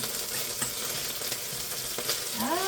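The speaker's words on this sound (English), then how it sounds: "you hear that sizzle?" Butternut squash sizzles in infused oil in a hot pan, a continuous crackling fry with small pops throughout, close and steady.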